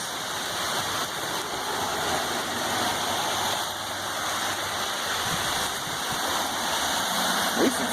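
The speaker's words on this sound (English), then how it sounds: "look at this freaking storm that's blowing in" A heavy rainstorm blows in over a grassy yard in Honduras, with a loud, steady, unbroken wash of falling rain holding at the same level throughout, no voices.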